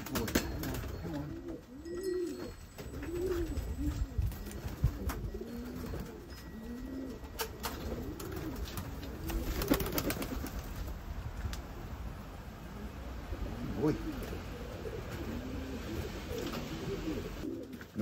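A racing pigeon coos at its loft in a steady run of repeated, rolling calls at close range, over a low background hum, with no talking.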